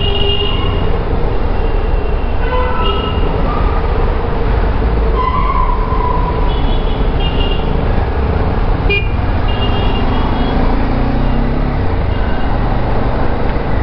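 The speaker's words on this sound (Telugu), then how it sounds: "Heavy traffic." Heavy road traffic in Bengaluru, heard from inside a car as a dense, constant loud rumble of engines with scattered horn toots and a sharp honk near the middle, going on unbroken throughout with no speech.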